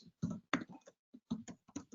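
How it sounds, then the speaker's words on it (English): Typing on a computer keyboard, with irregular bursts of close, crisp key clicks separated by short pauses, heard alone without talk. "you'll forgive my typing"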